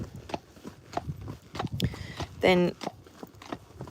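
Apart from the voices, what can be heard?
Friesian horses walking, hooves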